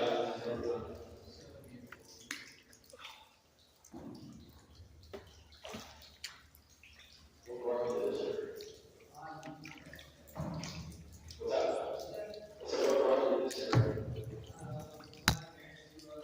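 Water drips and splashes inside a canal tunnel on the Union Canal, echoing softly at a low level while a person talks quietly over it throughout.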